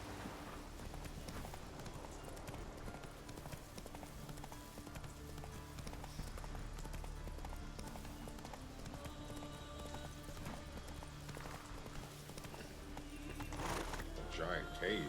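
Hooves of a horse in the Witcher 3 video game clip-clop steadily at walking pace, fairly faint and continuous, with game ambience beneath and a brief louder rustle near the end.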